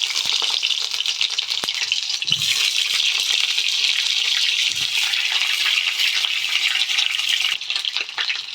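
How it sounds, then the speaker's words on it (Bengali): Steady, loud sizzling of pointed gourd frying in hot oil, continuous throughout with a couple of faint clinks. "ধুয়ে কেটে ধুয়ে রাখা পটলগুলো তো ভাজা ভাজা করে নেব"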